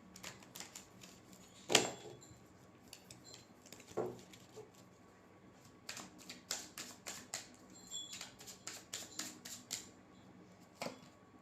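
Tarot cards are shuffled by hand, giving soft irregular riffling and tapping clicks in quick bursts, quiet and close, with no talk.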